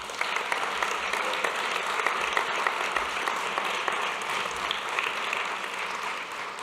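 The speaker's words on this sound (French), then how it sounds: "je crois qu'on peut encore une fois l'applaudir pour sa performance" A round of audience applause after a performance at an arts award ceremony, even and continuous throughout, moderately distant and with no talk over it.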